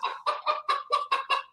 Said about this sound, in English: Got a chicken.